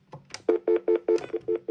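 Dialing on an AT&T 730 telephone: a quick, even run of about eight short, clear beeps heard close up, with no voices.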